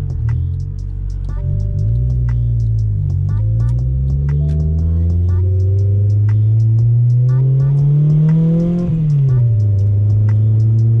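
A slammed Honda Civic EK coupe accelerating from inside the cabin, its engine note rising steadily through gears with a brief drop at each shift, loud and droning, alongside faint rhythmic clicking.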